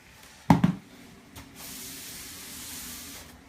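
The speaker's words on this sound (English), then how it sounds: "Let's give this cake a little steam." A handheld steamer is used on a cake, giving a soft, steady hiss for about two seconds after a brief sharp knock; the sound is quiet and close, with no talking.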